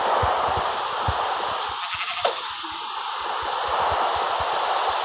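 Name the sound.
sheep bleating in survival video game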